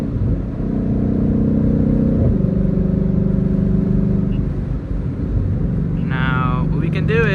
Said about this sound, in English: Rocking in manual mode for a little bit here so you guys can hear those downshifts.